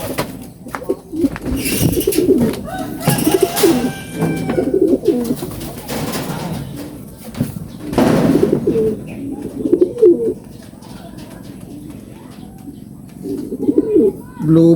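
Racing pigeons cooing close by during a derby race in Ilocos Sur, soft throaty coos arriving in irregular bursts with short quiet gaps between them.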